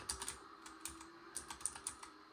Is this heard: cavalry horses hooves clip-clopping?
no